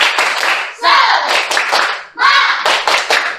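A classroom of students performs a rhythmic clapping chant, loud bursts of hand claps repeated in patterned groups with children's voices joining in, close and lively.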